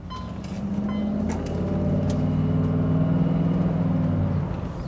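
A Cadillac Allanté cruising on an open road, its steady engine hum and road rumble holding evenly with a faint wind roar throughout.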